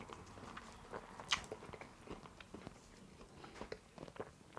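Biting and chewing crunchy, crispy oven-fried chicken made without deep frying, close and quiet, with a few sharp crunches followed by softer, irregular chewing.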